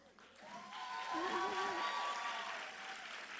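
A church audience applauds and cheers at a gathering, a soft sustained wash of clapping swelling then fading over a few seconds, with a voice calling out above it.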